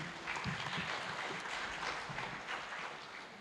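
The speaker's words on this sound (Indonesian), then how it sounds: "marilah kita berikan tepuk tangan untuk para pemateri" An audience at a seminar on strengthening the Indonesian prosecutor's office gives the speakers a round of applause, a soft, distant patter of many hands clapping that fades toward the end.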